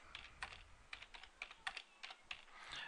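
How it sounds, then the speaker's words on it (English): Keys clatter on a computer keyboard in quick, uneven bursts of taps, close and fairly quiet, with no voices over them. "Yes, I know my typing is not the best."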